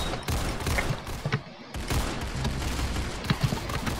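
Video game gunfire from an enemy gun, rapid bursts of shots crackling steadily throughout amid other game noise, dense and continuous.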